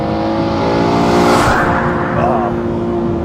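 A loud Aston Martin One-77 engine revving hard under acceleration, a steady high roar peaking in third gear on a damp surface, with faint tire noise.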